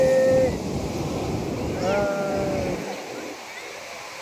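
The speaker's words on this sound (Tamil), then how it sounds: "இங்கே பாருடா ஏய் அலை வருது அலை வருது" Sea waves wash up onto a beach in a broad, steady rush that eases off toward the end, under excited voices and a high whistling tone.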